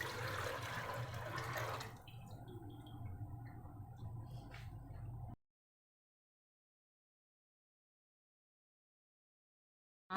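Chickpea soaking water poured from a bowl into a pot on a lit stove, a steady close splash and gurgle lasting a couple of seconds before fading into quieter trickles, then silence.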